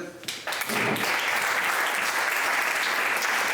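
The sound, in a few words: audience applause welcoming a speaker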